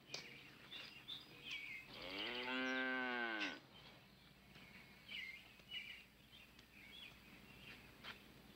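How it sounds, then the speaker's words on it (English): A cow gives one long, loud moo lasting over a second, with faint bird chirps scattered before and after in an outdoor farm setting. "Milk the cow."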